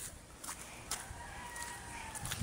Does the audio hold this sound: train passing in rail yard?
no